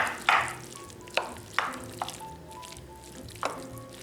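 Wet clinking and scraping of a utensil stirring ingredients and salt in a bowl for a crunchy hot chicken dish, several irregular strokes up close, no talking.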